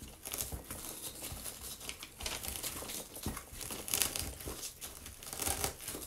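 A styrofoam ball being twisted and pressed flat by hand gives off dense, close crinkling and crackling, with irregular bursts and snaps throughout and no talking.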